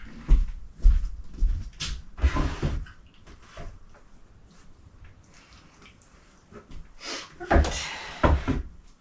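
Wooden drawer sliding and bumping shut in a home bedroom while socks are put away, a few close knocks and scrapes with soft rustling in between and quieter gaps.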